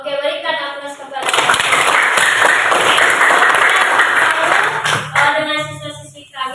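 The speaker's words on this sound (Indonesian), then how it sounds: "berikan aplaus kepada" A school class of seventh-grade pupils applauds together in a classroom, a dense, steady burst of clapping lasting several seconds, with a teacher's voice speaking before and after it.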